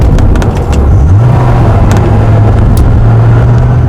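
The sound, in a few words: Dodge Viper engine rumbling while driving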